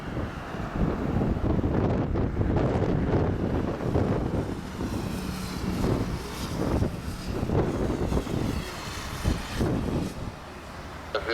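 Strong wind buffets the microphone at Madeira Airport, a loud, rumbling, gusting roar that surges and eases throughout, with no voices.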